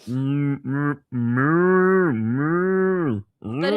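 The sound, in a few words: person imitating a cow mooing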